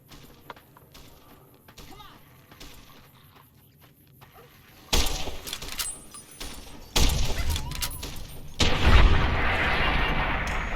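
Gunshots in Fallout New Vegas, first sparse and quiet, then several loud booming reports in the second half that come in separate bursts over rumbling game ambience.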